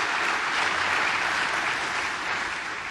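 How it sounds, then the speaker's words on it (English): Audience applause at an optics conference plenary session, a steady broadband wash of clapping from a large crowd that holds throughout and tapers slightly at the end. "I'd like to have a round of applause for the staff members"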